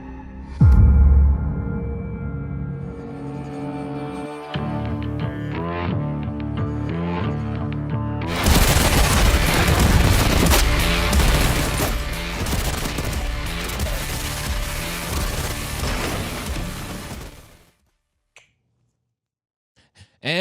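Cannon fire and heavy weapon blasts from a game trailer, a loud dense barrage of sharp cracks and booms with a musical score building underneath, cutting off abruptly into near silence.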